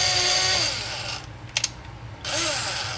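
A skid plate bolt being tightened on a Jeep JK: a loud, steady power-tool whir runs for about a second, drops away with a couple of sharp mechanical clicks, then starts up again close by.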